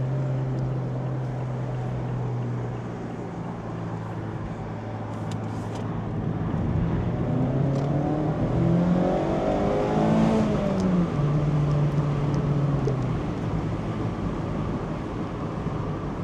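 A Mazda Miata engine drones steadily through a corner, then the pitch rises and falls as the car accelerates out, a continuous close in-car engine note with no talk.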